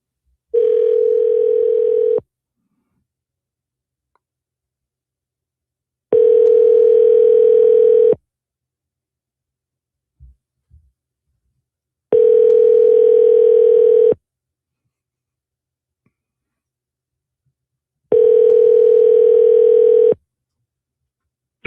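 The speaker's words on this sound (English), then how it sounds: "Caller ending in 6190. Calling you back now." A telephone ringback tone repeating in four loud, evenly spaced bursts of about two seconds each, with silence between them, heard while a caller is being phoned back.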